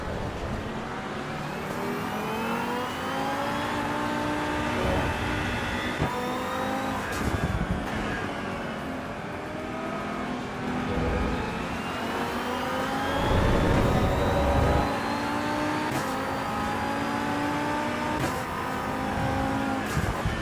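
Mustang GT3 race car engine in AC Evo, a loud, steady roar that rises and falls through repeated upshifts and downshifts, with brief tire noise, heard close and continuous throughout.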